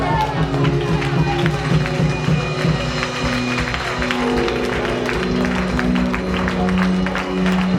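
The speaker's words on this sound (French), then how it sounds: "Allez, lèvez-vous et acclamez le Seigneur." A church congregation claps and cheers steadily throughout, a dense wash of hands and voices over sustained music-like tones, with talk mixed into the loud, continuous crowd noise.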